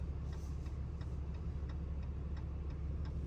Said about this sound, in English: Turn signal on.